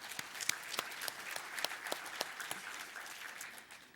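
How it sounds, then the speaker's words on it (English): Moderate applause from an audience at a meeting on homeless youth, distinct claps popping over a softer continuous patter that tapers off toward the close. "I think you deserve a round of applause for that."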